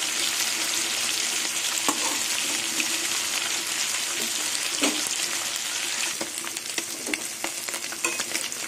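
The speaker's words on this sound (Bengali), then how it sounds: "মাছগুলো উল্টিয়ে দিলাম" Amudi fish fry in hot oil with a steady, dense sizzle throughout, along with occasional soft clicks and scrapes as the pieces are turned in the pan.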